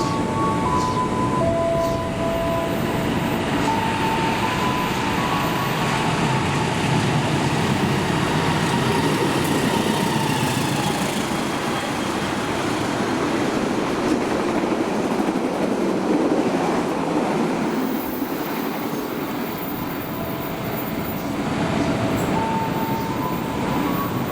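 Argo Sindoro passenger train rolling past with stainless steel cars, a loud continuous rumble and rhythmic clickety-clack of wheels over rail joints, steady throughout with faint squeals.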